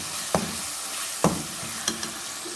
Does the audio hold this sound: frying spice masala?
yes